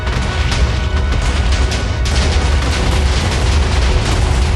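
A huge, sustained explosion in Minecraft, a dense continuous roar of blasts and debris tearing through a trial chamber, loud throughout.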